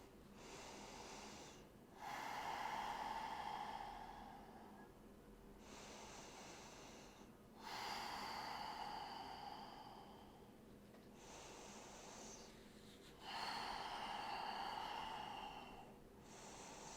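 Slow, deep breaths during a post-run stretch: long nasal inhales alternating with softer exhales in an even cycle of roughly five to six seconds, close and quiet.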